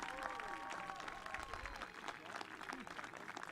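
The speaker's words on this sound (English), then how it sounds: "would you please now applaud each other" Graduation ceremony audience applauding each other, a faint, distant wash of many hands clapping steadily throughout, with speech and voices over it.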